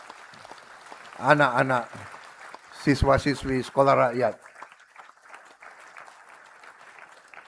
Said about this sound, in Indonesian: Mari kita beri tepuk tangan kepada